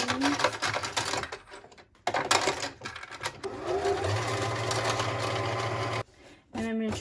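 A sewing machine whirs in steady bursts while winding a bobbin, a close mechanical hum that starts, pauses and resumes, with brief clicks and a person talking over parts of it.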